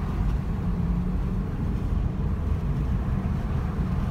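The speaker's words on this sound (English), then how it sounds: "He's like trying to rev it or something, or trying to step on it." A Nissan 370Z with a muffler or resonator delete sputters and strains under throttle while malfunctioning, a steady low rumbling drone heard from nearby over continuous road and wind noise.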